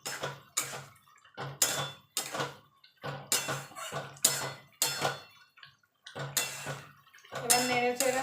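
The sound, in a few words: stirring ridge gourd poppy seed curry in pan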